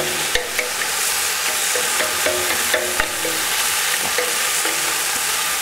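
Pork neck fries in a pan for Polish bigos, giving a loud continuous sizzle broken by sharp clicks and scrapes as the meat is stirred, with no voices.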